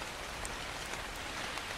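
Rainfall in the survival video game Ark Survival Evolved makes a constant, even hiss of drops on surfaces, quiet and unbroken for a moment with no talking.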